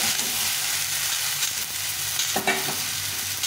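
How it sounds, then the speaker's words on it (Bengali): Fish and vegetables fry with salt and turmeric in a pan, giving a loud, steady sizzle that runs the whole time, with a few stirring scrapes and clinks near the end. "আর হলুদ গুঁড়ো দিয়ে দেবো, দিয়ে এটাকে ভালো করে একটু ভেজে দেবো"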